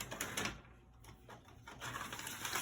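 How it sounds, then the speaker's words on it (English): Home label printer printing labels: a faint, steady mechanical whirring and buzzing with soft rhythmic pulses, close by, no talking. "you can hear the printer noise"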